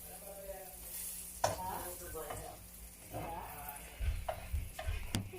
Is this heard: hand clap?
no